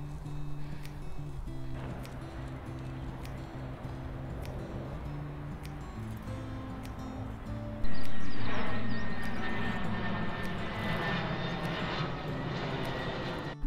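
A fixed-wing airplane flies low near Edinburgh airport, close to a motorway and a canal towpath trail, with a distant steady drone that swells sharply into a loud roar partway through, then slowly fades.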